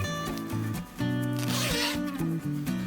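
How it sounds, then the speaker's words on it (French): A zipper on a quilted patchwork bag is pulled open or closed in short, close, raspy strokes, a few quick zips in succession, with a soft voice faintly beneath. "Donc elle se ferme avec la fermeture éclair"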